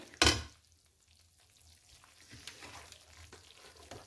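Ground Deccani red chili spice being added and stirred into hot oil in a pan, with a sharp clatter at the start followed by quiet scraping and a soft, continuous sizzle.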